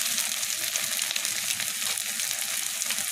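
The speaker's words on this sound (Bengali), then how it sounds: "এরপর একটু মশলাটা কষিয়ে নিতে হবে এইভাবে।" A spice paste of turmeric and chili powder fries in a pan with a steady, close sizzle and faint stirring scrapes, continuous throughout, with no voices.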